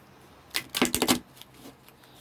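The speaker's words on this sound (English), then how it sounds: "I probably didn't need to shuffle again, but I just did." Tarot cards are shuffled in a quick riffle close by, a run of rapid flicking snaps lasting about half a second, then a few faint rustles in a quiet room.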